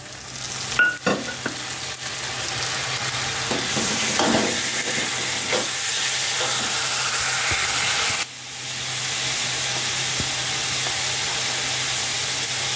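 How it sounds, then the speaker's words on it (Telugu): Tomatoes dropped into a pan of frying onions and fenugreek seeds, a steady close sizzle with stirring scrapes and a sudden burst of hissing as the wet pieces land. "ఇదిగోనండి ఉల్లిపాయ ముక్కలు మెంతులు అవన్నీ వేసాయి కదండి, టమాటాలు వేస్తున్నాను."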